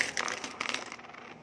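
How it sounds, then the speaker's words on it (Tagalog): Many coins from a heavy bag of loose change clatter and jingle close up in a quick, bright metallic cascade that fades within a second or so. "Ang dami kong barya, kaya mabigat talaga yung bag ko."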